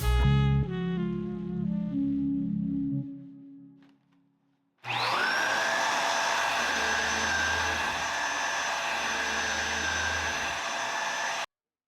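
Vacuum cleaner switched on during a music video, cutting in abruptly after music fades and a pause, then a loud steady whining drone that runs for several seconds before stopping.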